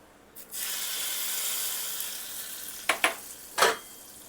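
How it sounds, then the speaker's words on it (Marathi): Mustard seeds and curry leaves hit hot oil for a raw mango chutney, bursting into a loud, close sizzle that holds steady, then sharper crackling pops near the end. "चला आता फोडणीला देऊया."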